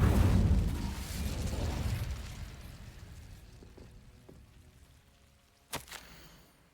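An Incendio fire spell is cast in Hogwarts Legacy with a loud whooshing burst that rumbles and slowly fades, followed a few seconds later by a short sharp crackling pop.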